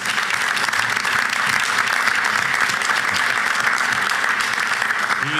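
A round of applause at a university board of supervisors meeting, steady and fairly loud clapping from a room of people that continues evenly without pause, with faint murmuring beneath.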